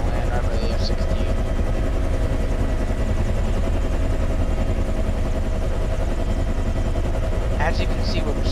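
A Bell H-1 Huey helicopter in a flight simulator game, a steady close rotor and turbine drone running continuously throughout, with a voice talking over it.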